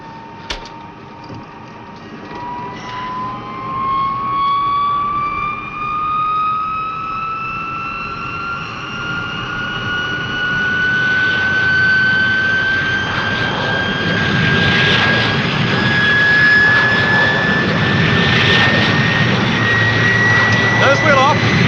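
Aircraft jet engines climb steadily during a takeoff roll, with a rising whine over a broad roar that grows louder through the clip while cockpit voices speak over it.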